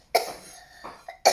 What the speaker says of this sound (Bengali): এই জন্য আমি একটু কাশি দিয়েছি।